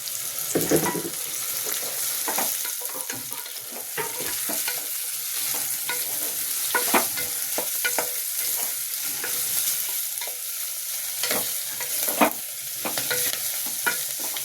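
Washed, dried goat intestine fries in a pan with a continuous close sizzle, while frequent irregular scrapes and clatters of stirring break through the hiss; nobody speaks.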